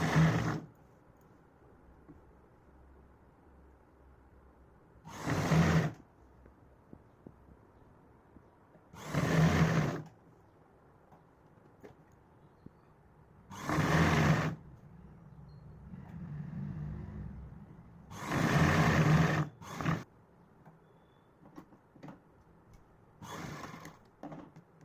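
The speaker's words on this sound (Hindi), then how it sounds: "जो सीधे वाला हिस्सा है उसको हल्का हल्का खींचना है, खींचते हुए सिलाई करनी है।" A domestic sewing machine stitches a six-panel palazzo in short bursts of whirring, five or six separate runs spaced a few seconds apart with quiet pauses between, close and moderately loud.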